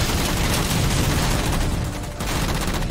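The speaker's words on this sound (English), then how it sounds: "I get the MG42!" A video game MG42 machine gun fires in a dense, continuous burst of rapid shots, loud and close, with no talk over it.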